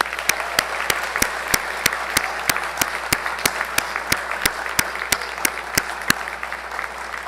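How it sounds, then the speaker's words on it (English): Audience applause at a University of Charleston School of Pharmacy white coat ceremony, steady clapping from a crowd with many sharp, evenly spaced louder claps standing out near the front, continuing throughout without talk. "if we could give a round of applause to the members of the University of Charleston School of Pharmacy class of"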